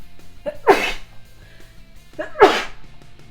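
Two loud, close sneezes about two seconds apart, each with a short intake of breath before the burst.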